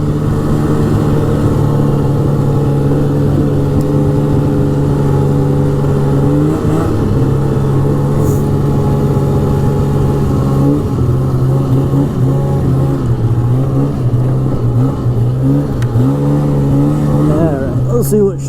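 A fan-cooled 2002 Polaris Super Sport 550 snowmobile drones loudly and steadily while riding along a trail, its two-stroke engine note shifting in pitch as the throttle changes, with a rider's voice now and then under the engine.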